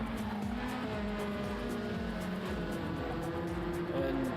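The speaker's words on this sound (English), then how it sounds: "The cars sound fantastic coming down these fast sections" Race cars in a pro-am round at the Autodromo Nazionale Monza roar steadily down the fast sections, a continuous loud engine drone with rising and falling pitch and faint tyre noise, no voices.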